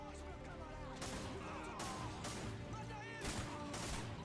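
An AA-12 automatic shotgun fires in Modern Warfare 2, a few heavy, booming blasts a second or so apart, rising out of dense, continuous in-game noise.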